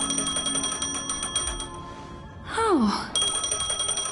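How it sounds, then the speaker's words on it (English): A phone ringing in the video game Honkai: Star Rail, heard as a steady repeating electronic chime that cuts off briefly while a voice gasps, then resumes. "A phone."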